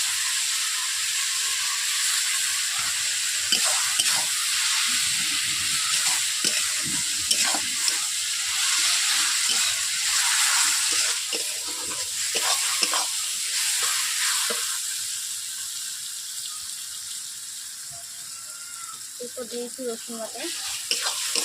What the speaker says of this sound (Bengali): এরপর দিয়ে দিচ্ছি টমেটো কুচি।